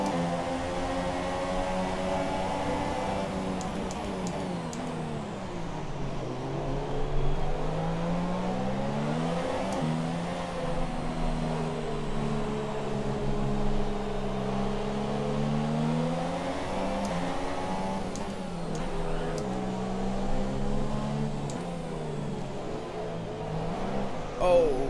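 Formula One race cars in the F1 2017 video game drone and whine continuously, their engine pitch rising and falling through gear changes and corners, with other cars audible close by throughout.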